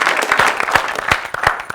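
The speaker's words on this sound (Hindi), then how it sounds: "आपकी तालियों में बुलवा रहा हूँ" An audience at a television show claps steadily, dense close applause from many hands filling the whole short stretch at a strong, even level.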